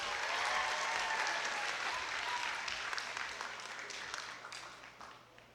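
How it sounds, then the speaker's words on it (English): Audience applause at a formal university lecture event, a sustained broad round of clapping that starts full and gradually thins and fades over several seconds, heard from a distance in a large hall. "A round of applause, please."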